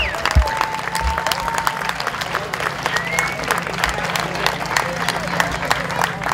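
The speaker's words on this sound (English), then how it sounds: "Please give them a round of applause." A crowd at a college's 50th anniversary program gives a sustained round of applause for the faculty and staff, with continuous close clapping and some voices blended into the noise.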